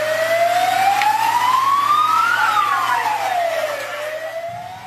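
A fire engine siren wails loud and near at a parked car fire outside an apartment block in Oradea, sweeping up and then down in pitch with no talk.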